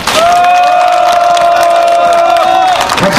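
A rally crowd at a protest gathering applauds and cheers for a hunger-striking activist, loud continuous clapping mixed with sustained shouted cheers and voices, close and dense throughout.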